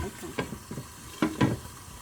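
Garlic pepper pork fries in a pan after the lid comes off, a steady sizzle broken by several quick scraping stirs.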